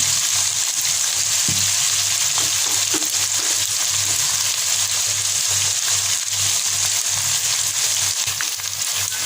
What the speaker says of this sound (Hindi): अब हम इसको अच्छी तरह से भून लें।